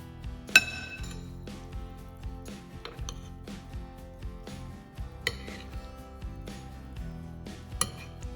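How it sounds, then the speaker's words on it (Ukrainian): A spoon clinks and scrapes against a bowl in an irregular stirring rhythm, the taps close and fairly quiet, mixing a beetroot vinaigrette salad with olive oil and lemon juice. "І все докладно перемішуємо."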